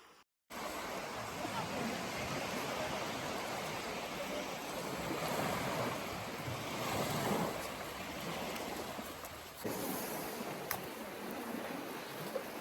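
Waves wash steadily onto a secluded hidden beach at Whangapura near Auckland, a soft continuous surf rush that fills the whole stretch without a break.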